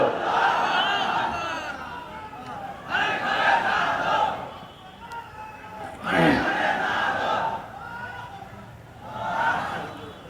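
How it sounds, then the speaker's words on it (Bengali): A large crowd at a Bengali waz gathering roars the takbir chant in several loud, swelling bursts, each rising and fading with brief gaps of murmur between. "কারা কারা জোরে তাকবীর দেবেন?"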